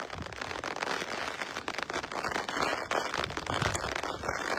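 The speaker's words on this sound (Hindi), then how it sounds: "फिलहाल बहुत ही तेज बारिश" Heavy rain pouring down in Jammu, a dense, steady hiss and patter of drops on surfaces, loud and close with crackling splashes throughout and no voices.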